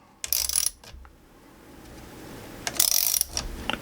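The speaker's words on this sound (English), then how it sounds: "I'm just going to very lightly torque it down" A socket wrench ratchets while lightly torquing down a transformer for a headphone amplifier, heard as two short bursts of close, rapid mechanical clicking separated by a quieter gap.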